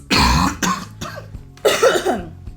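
Several harsh coughs and throat-clearing bursts come close to the mic, separated by short pauses, with no talking.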